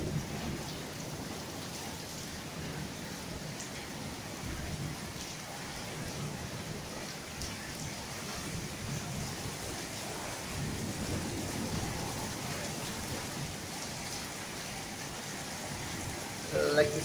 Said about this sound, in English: so total blackout with beautiful rain, thunderstorm, windy conditions, lightning.